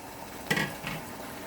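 Two cans of diced tomatoes tipped into a pan of garlic for a simple tomato sauce: one sharp, wet clatter, then a softer follow-up splat. The kitchen is otherwise quiet and no one speaks.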